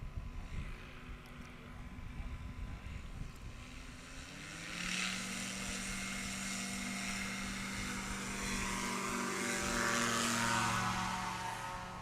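Engine drone of a STOL light aircraft at an airpark in Oklahoma, building and rising in pitch as it throttles up for takeoff, a steady propeller hum at moderate distance.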